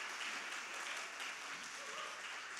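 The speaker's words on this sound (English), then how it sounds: "big round of applause" Faint, distant round of applause from an audience at a startup competition, a continuous even patter of clapping with no clear voices on top.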